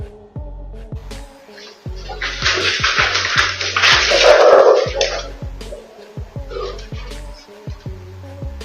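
A dog suffering a seizure gives repeated yelps and whimpers with a sustained noisy burst in the middle, close and fairly loud, among other background sounds.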